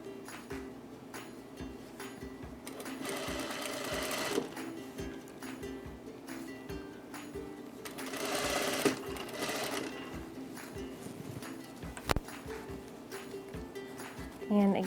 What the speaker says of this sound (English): I'm going to just stitch this all the way down